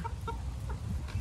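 A large-breed hen clucks in a few short, soft bursts in a quiet farmyard, with no talking over them.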